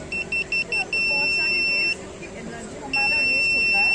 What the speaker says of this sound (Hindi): ये सिंगल बीप कर रहा है,